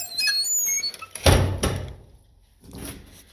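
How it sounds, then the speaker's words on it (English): A spring-loaded door swings shut on its own and slams loudly with a sharp bang and squeak at a bunkhouse entrance, followed by a softer rattle as it settles. "It says don't slam the door because it slams itself."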